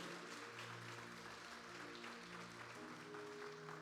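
A church congregation claps during a Portuguese-language communion service, quiet, steady applause with a low sustained musical tone beneath it, faint and distant throughout.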